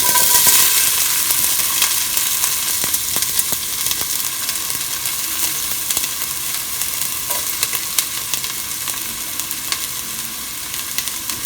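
Half an onion sautés in a hot pan for crab masala, with a loud, dense sizzle and crackle and stirring scrapes running continuously, close up and without talk.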